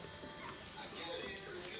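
Puppies whimper and yip in a busy, noisy room while people talk around them, with soft high cries coming up now and then through the background noise.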